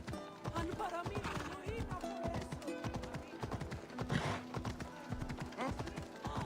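Horse hooves clip-clop in a steady trotting rhythm in the video game Assassin's Creed Odyssey, moderately loud amid game ambience, with a voice talking over it.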